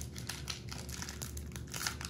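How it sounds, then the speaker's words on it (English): Crinkly plastic wrapper of a Pokemon card pack being torn and crumpled open, close and continuous with sharp rustling bursts, no talking. "I'm back to struggling with the Pokemon card packs to open them."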